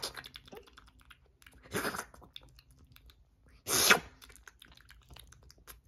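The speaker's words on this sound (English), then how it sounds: "make beautifully satisfying slurping sounds with my tongue" Quiet, close wet mouth noises with two louder slurping bursts from the tongue, set against soft clicks and near silence.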